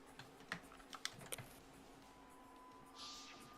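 Quiet keyboard or game-controller clicking, a handful of sharp, separate clicks over about a second and a half, then faint background hiss and a soft tonal hum.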